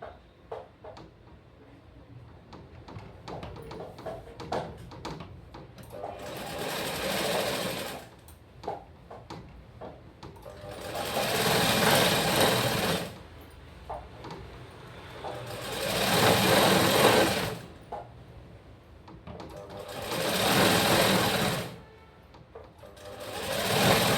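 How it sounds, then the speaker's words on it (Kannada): A sewing machine stitches a blouse in several bursts of rapid, whirring running, each lasting a few seconds, separated by quieter handling pauses, fairly close and clear. "ಇದನ್ನು ಮೇನ್ ಫ್ಯಾಬ್ರಿಕ್ ಮ್ಯಾಗ ಹಸ್ತಾರಿಟ್ಟ ನಾವು ಸ್ಟಿಚ್ ಮಾಡ್ತಾ ಬರಬೇಕು."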